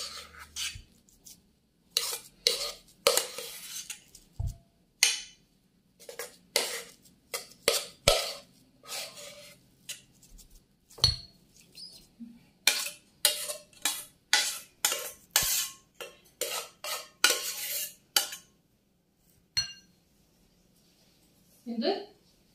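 Mashed potato is scooped into a dish with a spoon, giving a string of short soft scraping and tapping sounds close by, in irregular bursts with pauses, and no talking.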